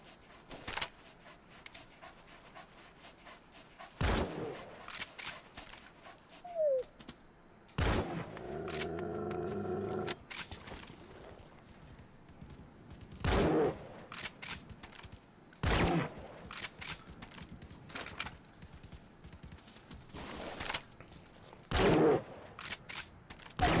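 Loud, separate gunshots fired at a bear in Metal Gear Solid V: The Phantom Pain, roughly eight sharp cracks spaced a few seconds apart, with a brief burst of rhythmic banging in between.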